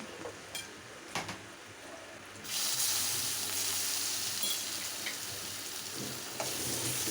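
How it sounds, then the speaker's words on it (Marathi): Cumin seeds sizzle in hot oil in a kadhai (wok), a steady close frying hiss that swells loudly partway through and carries on with faint stirring clinks. "आता यानंतर परत मी कढई ठेवलेली आहे जिरं टाकलेलं आहे"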